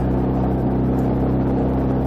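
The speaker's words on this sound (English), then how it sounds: "Traffic aplenty." Steady, loud low engine drone of road traffic at rush hour on a country road toward Fromes Hill, a continuous rumble with no clear breaks between vehicles.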